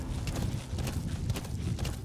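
A horse galloping in the Metal Gear Solid V: The Phantom Pain video game, quick rhythmic hoofbeats thudding steadily and close over a low rumble.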